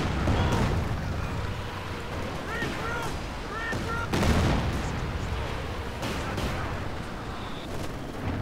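Battle sounds from Company of Heroes 2 fill the stretch: dense, continuous gunfire and heavy booming blasts, with a burst of machine-gun fire against a constant roar of combat, loud throughout.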